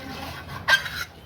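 Mutton being stirred in a cooking pot, with a single short scrape of a utensil against the metal over a faint background, close and brief, no speech.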